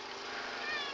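A pet cat that once lived outdoors gives a single short, close meow.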